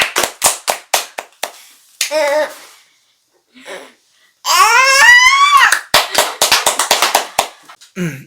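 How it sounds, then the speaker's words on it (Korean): Scattered clapping in a church discipleship-training session, sharp separate claps in bursts at first and again at the end, with a child babbling and a short stretch of speech in between. "박수 쳐줘, 박수."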